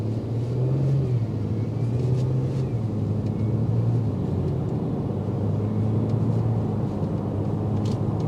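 A Genesis G70 3.3T driven in comfort mode at low revs gives a steady, moderate engine drone with road rumble inside the cabin, even and continuous, with no voices.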